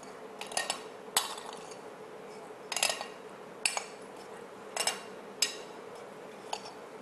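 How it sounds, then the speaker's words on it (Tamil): A spoon stirs salt into a dish, striking the bowl with sharp, separate clinks about once a second against a quiet kitchen background. "ஸோ இப்போ இதில் சால்ட்டும் போட்டாச்சு, போட்டுட்டு நல்லா மிக்ஸ் பண்ணிக்கலாம்."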